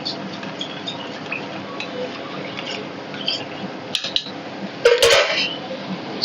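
Cornflour being stirred into water in a bowl for a restaurant-style chilli paneer gravy, heard as a steady scraping, rubbing clatter of a utensil against the bowl, with a brighter clink near the end.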